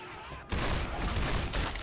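Rapid, dense gunfire erupts in Left 4 Dead 2, a loud continuous fusillade that starts suddenly and keeps hammering close by for over a second.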